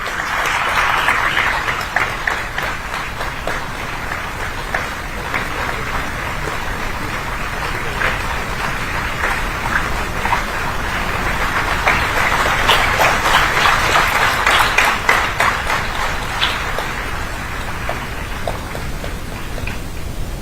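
Long, loud crowd applause at a university international higher education fair inaugural ceremony, a thick continuous patter of many hands that swells in the middle and stays steady for about twenty seconds without speech.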